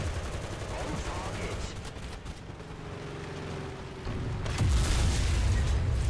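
Battlefield gunfire in War Thunder with a tank cannon shot striking an M4A3E2 tank, loud dense crackle and rumble throughout, swelling into a heavier booming impact near the end.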